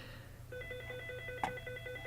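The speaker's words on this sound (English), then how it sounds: "Sorry, my phone is ringing." A telephone rings with a repeating electronic trill, steady pulses starting partway in and continuing near and clear over a quiet room hum, with a brief click midway.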